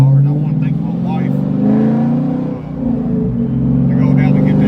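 A 2010 Camaro with a Flowmaster Super 10 muffler gives off a loud, deep, steady exhaust rumble that swells and dips slightly, heard up close.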